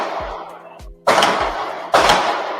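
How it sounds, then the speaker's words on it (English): Live gunshots ring out during a podcast recording, two loud sharp cracks with ringing tails about a second apart, following a few softer low thumps. "Suddenly, gunshots."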